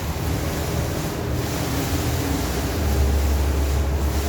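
The Icon Siam waterfall fountain in Bangkok flows with a loud, steady rush of falling water, a broad constant roar mixed with wind buffeting, and no voices.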